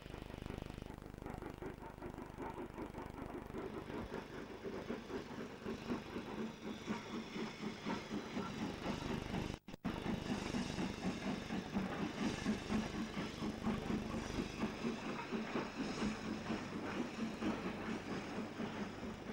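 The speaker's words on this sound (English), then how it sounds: "the daily 20-plus vehicle empty stock train to Redbank, Manchester, with a Jubilee double heading at Class 5" A double-headed steam train, a Jubilee and a Class 5 hauling 20-plus empty coaches, rumbles past with steady chugging and clanking, continuous heavy mechanical noise, brief dropout midway, then the rolling rumble continues.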